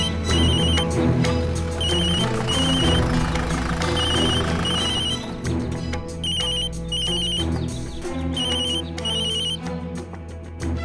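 A phone ringtone on an outgoing call chirps in repeated short bursts over a loud background of music, the ringing pattern coming back steadily throughout.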